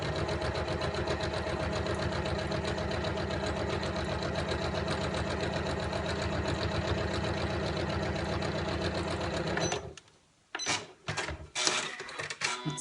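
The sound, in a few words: Janome MC9900 sewing machine sewing a straight stitch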